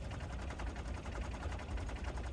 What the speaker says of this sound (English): This cannon is so loud.